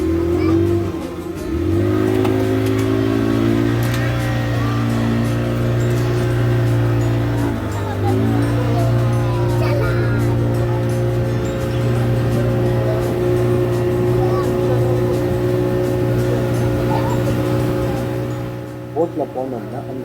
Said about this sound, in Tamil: நம்ம போட்டும் கிளம்பிடுச்சு.